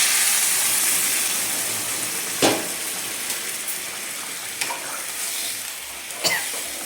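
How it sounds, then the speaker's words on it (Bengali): Heated water poured into a pot of braised meat gives a continuous hissing sizzle and steam, with a few sharp splashing bursts along the way, fairly loud and close. "গরম করা জল আমি দিয়ে দিচ্ছি"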